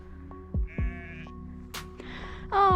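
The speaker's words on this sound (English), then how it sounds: "Oh, sheepies!" Several sheep bleat outdoors near Belstone Tor, short wavering cries at varying pitch, with a longer louder bleat close by at the end.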